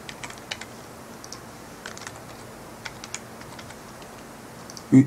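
Typing on a computer keyboard while a city field is filled in during Apple ID sign-up, with sparse, light key clicks in short bursts and a louder tap at the end, close and quiet with no talk.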